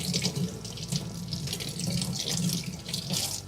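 Beer line parts rinsed under a running tap: a steady close splash of water into a sink, with the flow breaking up as pieces are moved through it.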